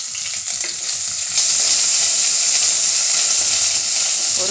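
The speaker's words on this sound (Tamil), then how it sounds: "இப்போ கடுகு நல்லா பொரிஞ்சிருச்சு" Mustard seeds, curry leaves and onion sizzling in hot frying oil, a loud steady crackling hiss that swells and holds near the mic.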